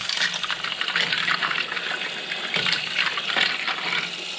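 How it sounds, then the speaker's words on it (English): Fresh water runs steadily over vintage Super Champ boat parts being rinsed after a peroxide soak, a continuous close gush of tap water splashing for several seconds with no talking. "and now we can wash with fresh water."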